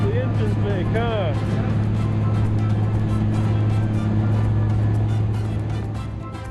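Outboard engines on a boat out on the water in the Florida Keys give a steady, loud low drone, with wind and water rush mixed in and a few whistling tones early on.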